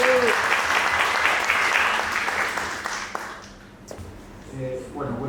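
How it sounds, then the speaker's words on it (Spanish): Conference audience at an animal-law panel applauding, a dense burst of clapping that fades out before a speaker begins talking at the end. "Un aplauso, por favor."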